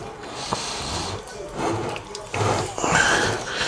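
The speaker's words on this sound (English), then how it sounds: "So you can already see it soaking up the water, so we will need a bit more water in here." Water is poured into a rice powder mixture in a bowl, making a soft, steady trickle and faint splashing that grows a little louder near the end, with no speech.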